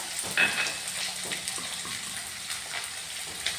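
Garlic, ginger and green chilies sauté in hot oil for an anchovy pickle, giving a steady, close sizzle and crackle with faint stirring scrapes and no voices.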